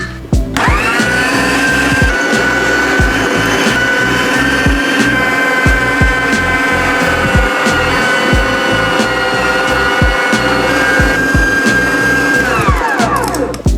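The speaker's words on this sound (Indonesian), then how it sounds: "Kita akan menggiling udangnya menggunakan meat grinder terbaru dari Idealife" An Idealife electric meat grinder runs steadily while grinding shrimp, a loud continuous motor whine with a rattling, chopping texture that holds for about fourteen seconds before spinning down at the end.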